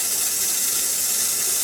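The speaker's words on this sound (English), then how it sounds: "Oh man, this steam coming off the heater." Steady, bright steam hiss from a hot aquarium heater plunged back into tank water in a fish room, continuous and fairly loud with no pauses across the short stretch.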